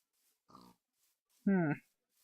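Pigs in the Minecraft video game give two short oinking grunts, the second louder and longer, with quiet gaps around them.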